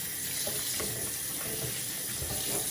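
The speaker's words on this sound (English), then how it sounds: "I'm going to wash the meat really" Tap water runs steadily while a 7.5 pound pork shoulder roast is washed, a constant close hiss with faint splashes and handling knocks beneath, no talk.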